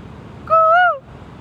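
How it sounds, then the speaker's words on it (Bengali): A koel, a cuckoo, gives a single clear call in Malaysia, a smooth tonal rising-and-falling note of about half a second, loud and close over quiet background hiss. "অনেকদিন পরে কোকিলের ডাক শুনলাম"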